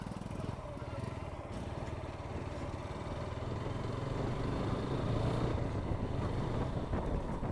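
A Hero motorcycle's engine runs steadily while being ridden, a faint, continuous buzzing drone that grows slightly louder toward the end, with no talking over it.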